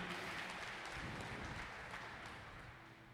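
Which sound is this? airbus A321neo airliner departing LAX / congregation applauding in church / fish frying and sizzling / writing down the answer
congregation applauding in church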